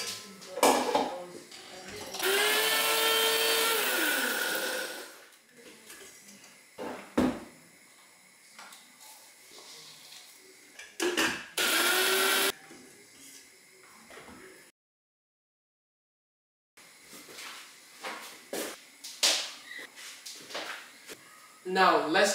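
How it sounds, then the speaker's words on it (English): An electric blender grinds ehuru, uzula seeds and crayfish for pepper soup in two loud whirring bursts, one long and one short, separated by stretches of talk and kitchen clatter. "Now I'm going to grind my ehuru, uzula seed and crayfish."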